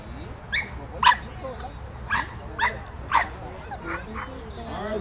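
A dog barks in a series of about six sharp, evenly spaced yips and barks during a dog training demonstration, fairly close, with voices murmuring in the background.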